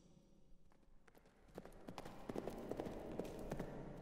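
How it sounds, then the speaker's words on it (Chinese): Horse hooves clip-clopping on hard ground in a Chinese historical drama, faint at first and growing steadily louder and denser as the horses draw near, over a low background hum. "这听见有马蹄的声音"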